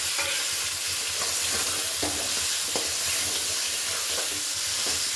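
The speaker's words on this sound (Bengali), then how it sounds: "এবার এটাকে হাই ফ্লেমে নেড়ে চেড়ে ভেজে নেব।" Chopped onions fry on a high flame in a pan, giving a constant loud sizzle with periodic scraping taps from stirring and no voices.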